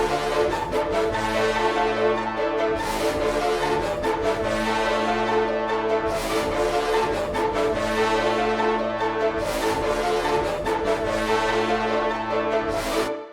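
A sustained synth pad from a Tri-Freeze drum kit carrying the melody of a trap beat in FL Studio, a loud, wide, reverberant chordal loop with repeating phrases and swells, with no talk over it.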